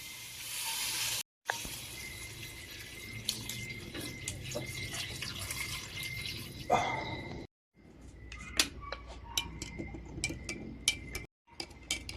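Water bubbling and sizzling in a cooking pot, a steady simmering texture with scattered sharp ticks and pops, close by, with no talking.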